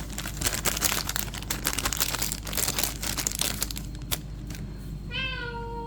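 A house cat meows at the end, a short rising-falling call following a stretch of crinkling and crumpling packaging, with no talk over it.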